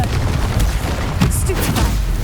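Confringo blasting spell cast in the Hogwarts Legacy game, a short booming burst among repeated spell effects, loud and close with low rumble, under brief talk.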